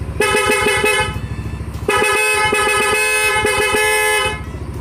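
Loud dual-tone horn on a Yamaha Aerox V3 motorcycle blaring in two long sustained blasts, close by, with an engine idling underneath.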